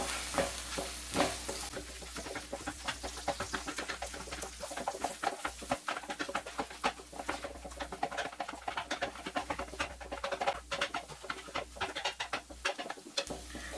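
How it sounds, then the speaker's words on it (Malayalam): Eggs being scrambled vigorously with spice powder and salt for a chicken lunch-box dish: a steady, rapid run of close clicking and tapping strokes, fairly loud, with no talk. "ഇനി ഇത് നന്നായിട്ടൊന്ന് സ്ക്രാമ്പിൾ ചെയ്തെടുക്കാം"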